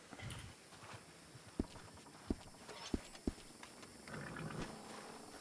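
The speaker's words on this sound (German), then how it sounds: "Aber ich höre doch dein Pferd." A horse's hooves clop on a path in a Western-themed open-world game, four distinct hoofbeats spaced unevenly in a quiet scene with faint ambient noise around them.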